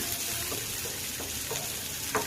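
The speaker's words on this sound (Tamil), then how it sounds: "வெங்காயம் நல்லா வதக்கி எடுத்துக்கலாம்" Onion and green chili sauté in hot oil with mustard seeds, a steady close sizzle with soft scraping stirs throughout and a slightly louder stir near the end.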